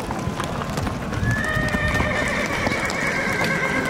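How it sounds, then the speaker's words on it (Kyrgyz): Horses whinny and neigh amid steady hoof clip-clop at a busy livestock market, with calls rising and stretching over a dense background of milling animals and faint crowd noise. "бул жакта жалаң чоң аттар бул жакта"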